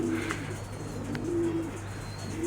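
Racing pigeons in a loft give soft, repeated low coos, a few drawn-out calls over a steady background hum, close and gentle with no talking.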